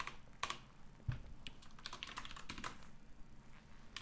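Quiet, close typing on a computer keyboard, a scatter of light key clicks in uneven bursts with no voices.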